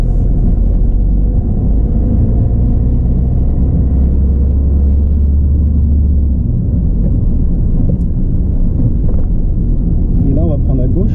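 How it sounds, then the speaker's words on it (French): A car pulls away from a stop during a driving lesson, its engine rumble rising steadily and close inside the cabin, with a voice talking over it throughout. "on retire le pied du frein et on accélère"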